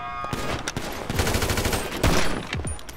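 Rapid bursts of automatic and pistol gunfire in the video game GTA V Online crackle in quick, loud volleys, with dense clusters of shots and short pauses between them.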